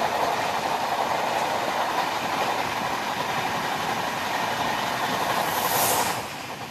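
A passenger train runs on a Kolkata–Keonjhar route in rain, producing a loud, continuous rumble with rhythmic clickety-clack of wheels over rails, easing slightly near the end, with no voices.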